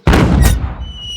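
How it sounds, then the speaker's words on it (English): A cartoon cannon fires a cannonball in a Peppa Pig camping episode, one loud close boom with a sharp attack, followed by a whistling tone and a fading rumble. "Right, let's fire the cannon."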